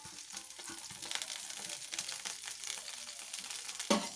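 Whole spices such as black pepper fry in hot oil in a pan for Chettinad chicken gravy. A continuous crackling sizzle plays at moderate level, with a brief louder clatter of stirring near the end.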